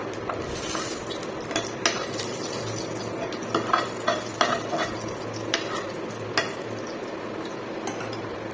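Whole spices, panch phoron with a dried red chili, crackle and fry in hot oil for a thin Bengali curry, a steady sizzle punctuated by sharp pops and the occasional scrape of a spoon against the pan, close up with no talking.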